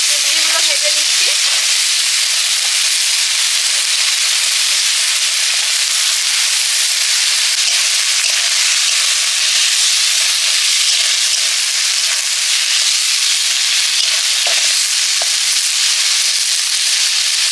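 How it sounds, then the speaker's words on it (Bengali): Chicken pieces frying in hot oil, a loud, dense, unbroken sizzle that holds steady and close throughout, with a few faint knocks near the start and end. "মাংসগুলো তেলে ভেজে নিলাম হালকা করে।"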